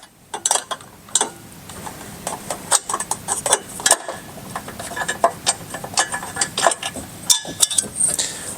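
Two 13 mm bolts coming off a fender bracket on a 2020+ Chevy Silverado 2500/3500HD, heard as close metallic ticks, clinks and ratchet clicks in irregular bursts, with no voices.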